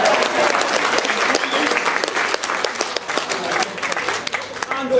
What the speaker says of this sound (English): I'd like to have just a small round of applause